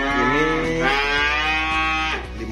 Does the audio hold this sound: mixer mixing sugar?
no